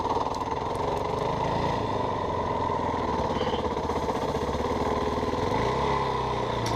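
A new dirt bike rides through sage grass, its engine droning loud and steady with a throbbing rhythm close by, and the pitch shifts slightly near the end.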